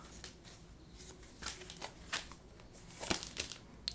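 Tarot cards are shuffled close by in a quiet room, a run of soft riffling and slapping bursts of uneven rhythm with no talk.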